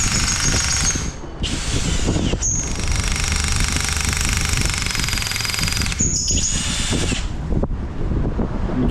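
A German power drill runs in loud, sustained bursts, whining high and steady for several seconds at a time with brief pauses between, close by and without talk.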